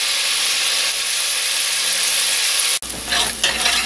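Oil hisses steadily in a pan, then chopped onions with a pinch of salt drop in for koshary, bursting into a louder, crackling sizzle close up.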